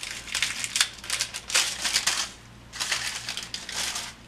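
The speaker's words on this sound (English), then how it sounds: "right about here, I'm going to cut with the scissors." Scissors cut parchment paper for poaching pears, a close crisp snipping and crinkling in several separate bursts with a short pause in the middle and no talking.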